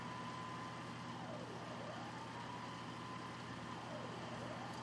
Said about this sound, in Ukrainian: Щоб дістатися до них, задіюють пожежні машини підвищеної прохідності.